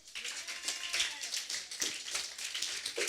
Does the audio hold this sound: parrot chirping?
no